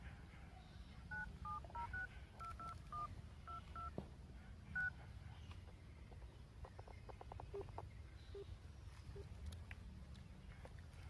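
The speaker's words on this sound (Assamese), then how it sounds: "ফোন কৰোঁ" Short electronic telephone keypad tones beep in quick succession during the first few seconds, followed by a steady low background hum with faint scattered clicks.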